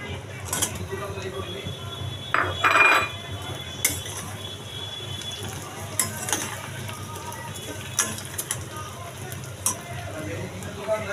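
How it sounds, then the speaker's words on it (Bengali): Fried chicken pieces tipped into a pan and stirred, with a soft steady sizzle, scattered clinks of a spoon against metal and scraping, while someone talks over the cooking. "তো এখানে আমি দিয়ে দিচ্ছি ভাজা চিকেনগুলো।"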